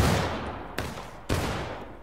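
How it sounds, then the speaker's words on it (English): Musket volleys fire in the American Civil War video game War of Rights. Three loud, close blasts each roll out into a long reverberating tail, with no talking. "Rise up, fire at will."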